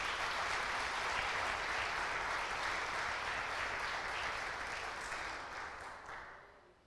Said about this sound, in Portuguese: Dê uma salva de palmas para Jesus aí.